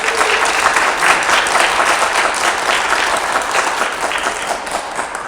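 Audience applause welcoming a lecturer onto the stage at a lunch-club health talk on acupressure points for everyday pain, dense steady clapping from a crowd that holds at full strength for the whole stretch.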